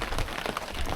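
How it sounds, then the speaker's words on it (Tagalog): Raindrops patter on a surface during a rainy stop on a Mt. Pinatubo 4x4 trip, a dense, faint, crackling spatter of drops over one second with no talk. "Umuulan na ang mga oras. Naririnig mo yung patak."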